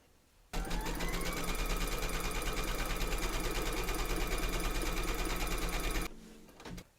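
An embroidery machine stitches a placement outline on a hooped table runner, a loud, even, rapid mechanical hum running for about six seconds before stopping abruptly.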